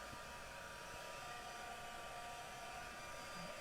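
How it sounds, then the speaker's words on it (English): Heat gun blowing a steady, loud hot-air whoosh over a colored stamped card, continuous and close with no pauses. "So I'm just going to heat it really quick with the heat gun."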